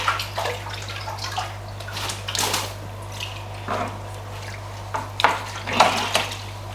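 Water splashes and sloshes as a large fish is lifted out of a home aquarium tank, with several close, loud bursts of spray and dripping over a steady low electrical hum.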